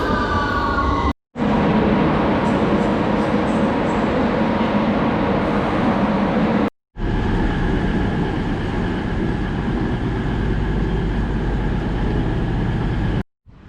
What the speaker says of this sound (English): Stand behind the yellow line as the train approaches.